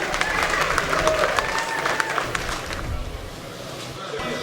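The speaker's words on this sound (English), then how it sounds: "Let's give her another round of applause." Audience applause and cheering at an outdoor mountain gathering, a dense steady wash of many clapping hands with crowd noise, loud and continuous throughout before easing slightly near the end.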